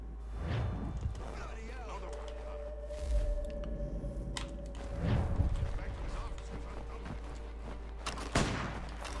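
Scattered gunshots from quick fire in Assassin's Creed 3, a few sharp bursts spread across the stretch, moderately loud, amid muffled game ambience and a sustained tone.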